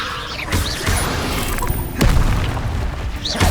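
Confringo explosive spell blasts in the wizarding video game Hogwarts Legacy: a couple of deep booming bursts, spaced apart, over continuous loud rumbling combat noise.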